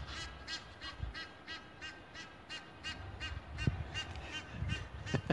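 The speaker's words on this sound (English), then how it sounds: "with or without the Egyptian geese" Egyptian geese honk in a steady series of repeated calls at moderate distance on a chilly evening, with no talking over them.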